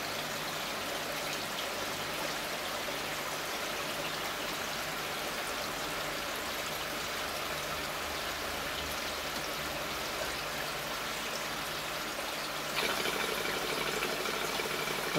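Water splashes steadily through an Evolution Aqua Bakki shower pond filter, a continuous trickling, pattering flow like rain on a surface, holding a level close-up volume throughout and swelling slightly louder near the end, with no talk.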